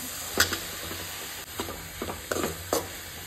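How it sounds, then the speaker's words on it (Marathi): Finely chopped tomatoes dropped into a frying pan of onions, a steady sizzle with a few soft stirring knocks and clinks. "आतां हांगासर जे बारीक चॉप करून टमाट घेतलेले पळय न्ही ते हांव हितून घालता"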